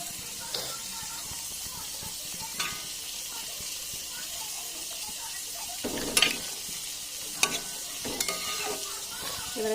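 A khoira hilsa fish curry simmers and sizzles in a wok as it is stirred, with scattered scraping clatters of a spoon against the pan over a steady low hiss.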